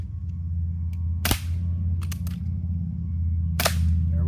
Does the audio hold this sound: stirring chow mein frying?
no